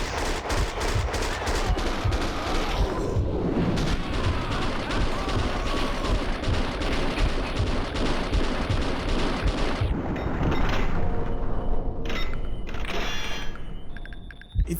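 Continuous rapid gunfire in a third-person shooter game based on a movie, with dense overlapping shots and mechanical clatter that fill most of the stretch before thinning into sparser sounds.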